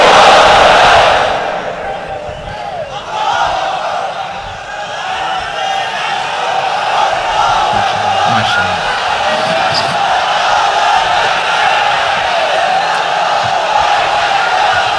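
A large crowd chants the takbir in unison at an Islamic sermon gathering, a loud, sustained roar of many voices with no separate speech over it.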